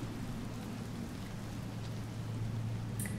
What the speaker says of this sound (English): It's raining, but this is like the beginning of the cycle